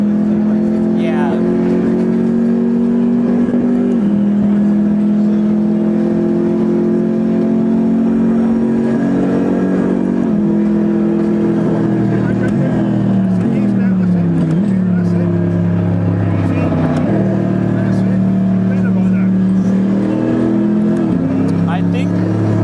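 A car engine in a motion-platform racing simulator revs steadily and loudly, its pitch climbing and dropping through repeated gear shifts across the whole stretch, with people talking over it.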